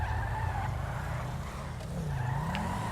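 A car in a video game drives with a steady engine drone while tires squeal and skid in long wavering whines, no talking.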